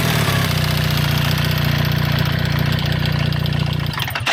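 A BMW R1300GS motorcycle engine runs at a steady idle, a close, loud, even mechanical thrum with a rapid regular pulse that holds for about four seconds, then briefly shifts before cutting off.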